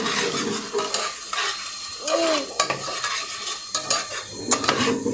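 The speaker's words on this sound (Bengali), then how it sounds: "গরম মশলা পাউডার দিয়ে দিচ্ছি আবার একটু নাড়াছাড়া করে দেব সুন্দর করে" Chicken curry is stirred in a pot with a spoon, giving repeated scraping and clinking of metal against the pot, close and fairly loud, with faint kitchen background and no talk.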